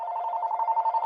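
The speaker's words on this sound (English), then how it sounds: "sorry about my phone ringing." A phone rings during a school district special board meeting, a steady electronic ringtone that pulses continuously for about a second at moderate, somewhat distant volume with no talking over it.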